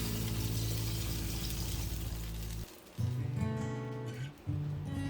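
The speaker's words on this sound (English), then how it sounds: "Add about 3 glasses of water." Water poured into a cooking pot, a steady rushing pour that cuts out briefly and resumes in short bursts, close and fairly loud with no talk.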